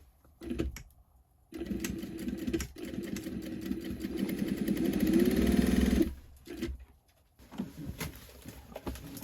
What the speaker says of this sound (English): So I'll just take it and start sewing it.